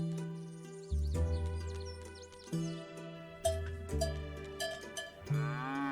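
Cows low in the Milkmaid of the Milky Way video game, several drawn-out moos in succession over a faint music bed, with a cowbell-like clang and a bird chirp near the start.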